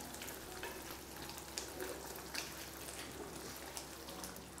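Puli inchi, a Kerala sadya ginger relish cooked with tamarind water and jaggery, is stirred in a pan over a soft, even bubbling sizzle with faint occasional scrapes.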